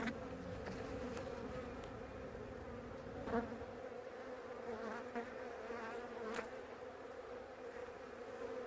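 Honeybees around an opened hive in Bracey, Virginia give a steady, close, droning buzz that continues throughout.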